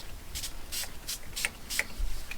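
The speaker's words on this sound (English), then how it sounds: "I'm going to start with my base layer of just spraying the Distress Oxide in Lost Shadow on here." A series of short, soft hissing spritzes of Distress Oxide Lost Shadow ink sprayed onto glass, about six bursts at an uneven pace, close and fairly quiet.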